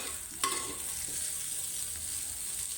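Potatoes and sago being sautéed with salt in a pan for a fasting dish, a steady close sizzle with a sharp utensil knock early on and soft stirring scrapes.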